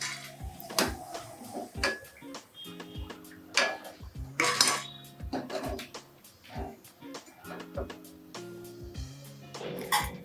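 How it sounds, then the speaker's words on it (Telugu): Golden-brown fried idli bajji are lifted out and set onto a serving plate, giving a run of irregular clinks, taps and scrapes of utensils against dishes at close range. "గోల్డెన్ బ్రౌన్ వచ్చాక ఇలా తీసేసుకుని సర్వింగ్ ప్లేట్లోకి పెట్టుకోవాలి"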